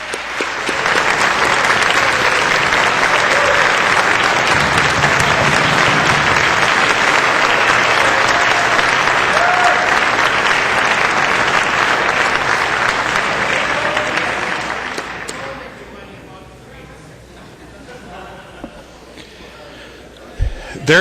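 Sustained loud applause from a crowd on the House floor during a session, a dense steady clapping that fades out after about fifteen seconds into quiet room tone.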